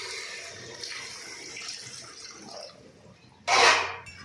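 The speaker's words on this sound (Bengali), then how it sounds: "তো বন্ধুরা আমি এবার জল দিয়ে দেবো।" Water poured into a pot of taro curry cooking with stems, a brief loud rushing splash near the end after quieter kitchen bubbling and sizzling.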